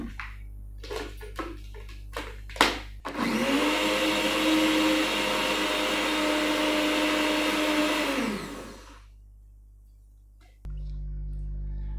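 An electric blender whirs steadily for about five seconds, mixing one cup of flour with one cup of water, preceded by a few handling clicks and knocks and followed by a low residual hum after it stops.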